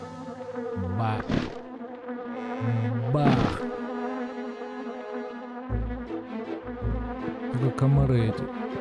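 Buzzing mosquitoes in The Grinch video game, a steady insect whine with game music and effects, while someone speaks briefly over it.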